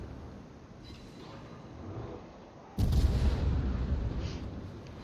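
Heavy 203 mm naval guns fire armour-piercing shells in World of Warships, a sudden loud booming salvo that cuts in partway through and rumbles on over a steady low engine and sea bed.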